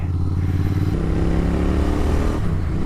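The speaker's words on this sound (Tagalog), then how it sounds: "That sound though. So we are on a Royal Enfield Continental GT 650." A Royal Enfield Continental GT 650 motorcycle engine runs close by with a steady, throbbing low rumble, shifting pitch slightly partway through as it rides along.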